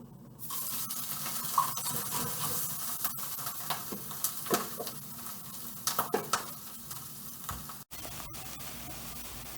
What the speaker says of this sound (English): I can add my shrimp shells in. You can see they're just literally shrimp shells. And I'm just going to toast them until they change color a little bit